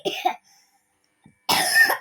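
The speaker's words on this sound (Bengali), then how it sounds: "ও সোনারে কাশি হচ্ছে" Two short coughs, one at the start and a longer harsher one near the end, separated by quiet.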